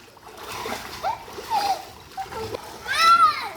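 Children splash in a swimming pool, with repeated close splashes and sloshing mixed with high children's voices and shouts throughout.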